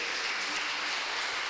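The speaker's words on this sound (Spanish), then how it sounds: "Dale un fuerte aplauso al Señor." A church congregation claps together during a service, producing a short burst of dense, steady applause that fills the room at an even level.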